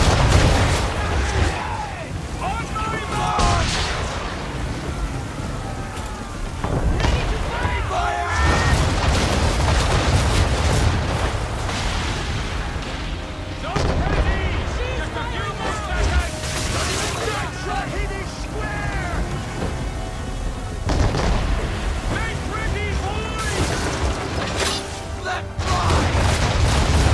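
Naval battle in Assassin's Creed III, with ship cannons firing in repeated heavy booming volleys and rumbling blasts that nearly fill the whole stretch, while voices shout orders over the barrage.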